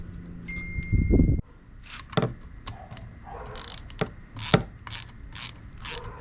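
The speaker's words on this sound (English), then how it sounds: "it's time to put the screws back" Screws being driven back into a 2005 Mercury 50hp two-stroke outboard after a carrier assembly repair, heard as short, quiet ratcheting clicks and scattered metallic taps, close and alone with no talk.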